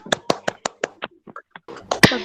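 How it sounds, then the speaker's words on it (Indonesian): A classroom of students claps hands in response to a correct answer, sharp separate claps near and loud, a few spread out, then a denser burst of applause at the end. "Yang lain tepuk tangan."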